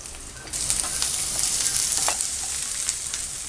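Urad dal, peanuts and onion fry in a pan while being stirred, a steady bright sizzle with scraping stir strokes that begins after half a second and continues close up without talk.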